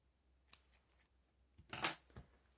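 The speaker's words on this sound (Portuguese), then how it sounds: "Já posso cortar a linha" Scissors snip through crochet yarn, one faint cut and then a louder crunchy snip with a short follow-up, heard close in a quiet room with no talking.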